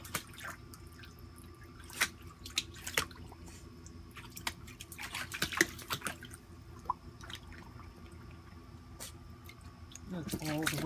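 Small watery splashes and drips from feet kicking in bath water come in irregular bursts, close by, with a soft continuous background and occasional voices.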